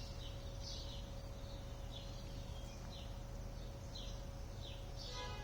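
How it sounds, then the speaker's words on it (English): Several birds chirp and sing outdoors in short, scattered high calls over a steady low background hum, fairly faint and with no talking. "I like hearing all the birds."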